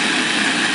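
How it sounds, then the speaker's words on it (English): A small electric kitchen chopper grinds Parmesan cheese in one short, loud, steady whirring burst, close up and alone. "I put some in my little chopper. Hold your ears. It's going to be a little noise for a second."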